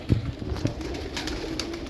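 A pigeon coos softly a few times against a steady background hum.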